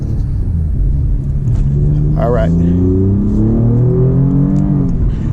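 Alfa Romeo Giulia Quadrifoglio accelerating hard, engine note climbing steadily through rapid 8-speed ZF automatic upshifts, a loud continuous interior rumble with a brief spoken remark partway through.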